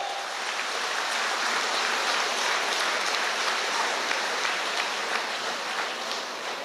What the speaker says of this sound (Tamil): கரகோஷத்தோடு அவர்களை வரவேற்போம்